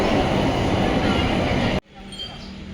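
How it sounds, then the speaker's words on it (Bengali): A local train rumbles loudly nearby with a dense roaring clatter, then the noise cuts off abruptly, leaving a quiet background. "চলুন এবারে ট্রেন ধরি"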